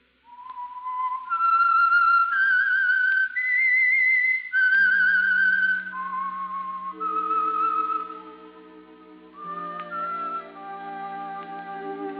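Whistled opening theme of the radio mystery program The Whistler, a clear, loud melodic whistle holding sustained notes, then joined by orchestral music beneath as the tune continues.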